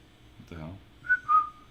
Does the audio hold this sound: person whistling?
yes